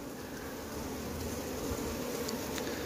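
Honeybees buzzing around a hive frame from a colony with laying workers, a soft continuous drone of many insects close by, alone and fairly quiet.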